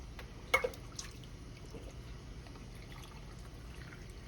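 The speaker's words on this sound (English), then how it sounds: "Just pour my liquor right in there" Liquor poured into a jar of sugar syrup for preserving peaches, a short splash and soft trickling close by, with a few faint drips and no talking.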